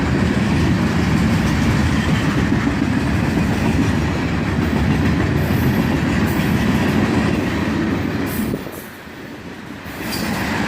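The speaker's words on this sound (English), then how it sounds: "A southbound manifest train." Southbound manifest freight train rolling past at close range, a loud continuous rumble of wheels and rail cars with faint squeals, easing briefly near the end, with no talking.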